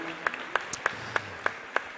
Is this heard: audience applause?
yes